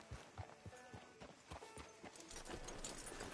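Horse hooves clip-clopping at a steady walk in the video game Red Dead Redemption 2, a continuous rhythmic beat of close hoofsteps over a background of ambient game sound.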